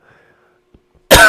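A single sharp cough bursts out loud and close after a second of near silence.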